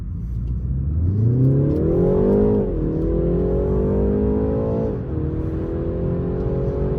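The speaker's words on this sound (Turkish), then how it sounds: "Pedal shift falan kullanayım. Siz de seyredin aracın hızlanmasını vesaire." A BMW 330i accelerates hard with rising engine revs, the pitch climbing steadily and dropping at two quick paddle shifts before pulling again, loud and close, with no voices.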